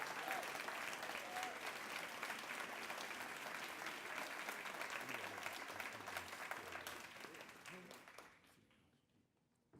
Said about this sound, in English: let's give another round of applause to all of our